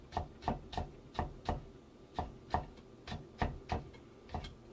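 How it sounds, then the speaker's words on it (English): Fish being chopped with a knife on a cutting board: about a dozen evenly spaced, sharp knocks in a steady rhythm, close and fairly quiet, with no voices. "Just chop them up."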